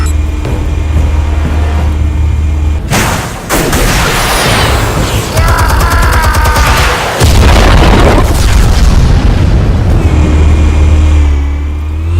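Explosives detonate in a Batman video game with loud, heavy booms. Crashing, crackling blasts hit around a quarter of the way in and again past the middle, over a constant low drone.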